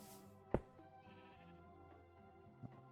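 A Minecraft sheep gives a sharp bleat near the start and a second, shorter one later, with game background sounds and a farm-building scene.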